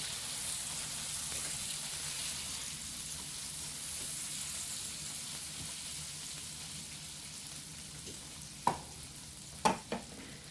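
Gluten-free food pieces fry steadily in a pan on a stove, a continuous soft sizzle with a few sharper clinks or stirring knocks near the end, no talking.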